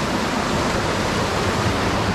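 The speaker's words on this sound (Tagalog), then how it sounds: "nakaka-relax yung aligasgas ng tubig" Rushing water of Tapuakan River in Pugo, La Union, a dense, steady roar of cold, clear current filling the scene evenly and close, with no voices.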